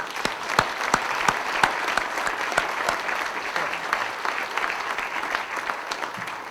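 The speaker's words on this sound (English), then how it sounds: "A round of applause for them." A crowd at a celebration breakfast applauds the volunteers with dense, sustained clapping that runs evenly throughout, with a few voices and cheers mixed in.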